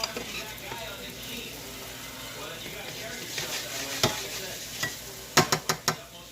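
Okra frying in a pan, with a steady low sizzle under scraping stirs and a run of sharp utensil knocks near the end; no talk.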